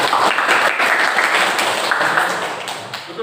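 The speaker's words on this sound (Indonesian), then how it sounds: "tepuk tangan untuk Juleha" Classroom audience applauding a student named Juleha during a teaching performance session, a dense burst of clapping filling the whole stretch and tapering slightly toward the end.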